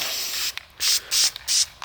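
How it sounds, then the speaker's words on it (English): Spray paint is applied in black to tops, with several short, close hissing bursts separated by brief pauses. "So we're going to go ahead and spray these tops black"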